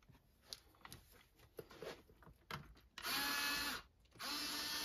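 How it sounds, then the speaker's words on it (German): Screws being loosened to open a Dyson V11 cordless vacuum, first soft clicks and handling knocks, then two long, loud whirring bursts of a close power screwdriver separated by a short pause. "zum Öffnen müssen wir einfach hier die drei Schrauben lösen"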